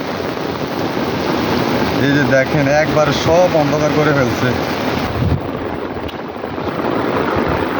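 Torrential rain pours down all around outdoors, a dense steady wash of noise with gusting wind on the microphone, while someone talks over it throughout.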